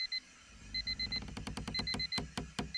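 A bedside alarm clock in a visual novel game rings with repeated high electronic beeps in quick pulses, accompanied by a rattling, clattering rhythm that speeds up, close and moderately loud.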